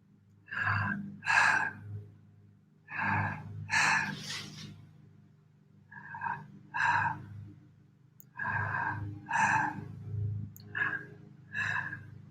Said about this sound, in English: Now I was breathing quickly to show you the example